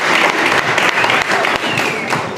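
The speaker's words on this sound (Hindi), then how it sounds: "अरे एक ज़ोरदार तालियां" Loud, dense applause from an audience at a ceremony honoring hospital workers, continuous clapping filling the whole short stretch.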